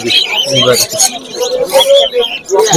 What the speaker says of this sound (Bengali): প্রচুর পরিমাণে বদ্রি রয়েছে দেখতে পাচ্ছেন